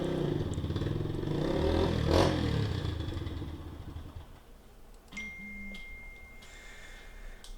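A new Suzuki LTZ 400 ATV engine runs at close range, loud and steady with a brief rise in revs near the start, then settles lower with some clattering and a short tonal chime toward the end.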